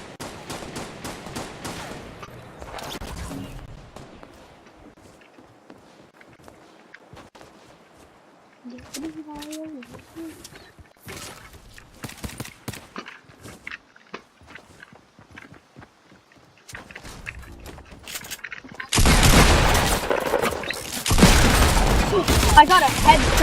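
Revolver gunshots ring out during video game play, scattered sharp bangs among footsteps and game effects, ending in a loud, dense burst of noise near the end; a voice is heard faintly at times.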